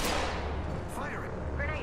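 Gunfire in a shooter video game, a continuous low booming rumble of shots and blasts with a voice speaking over it.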